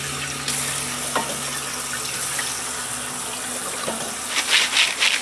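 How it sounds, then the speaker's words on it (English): Corn and lima beans are rinsed under a running kitchen tap. Water gushes steadily and close by, with a few clatters from handling and a brief splashing surge near the end. "Gonna rinse them under some water."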